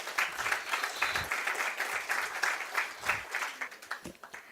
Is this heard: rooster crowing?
no